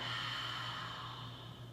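One long, deep breath during a yoga practice for back and spine pain, a steady airy rush heard close up and fading slightly toward the end, with no speech.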